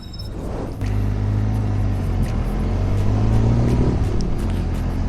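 A Benelli TRK 502X adventure motorcycle on a test ride along a main road, its engine droning loud and steady with a deep, even rumble that swells slightly as the bike pulls away.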